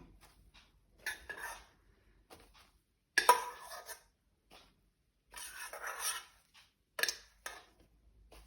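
Marble cake batter being mixed in a bowl, with intermittent scraping and clinking bursts of a utensil against the bowl separated by short pauses, close and fairly quiet.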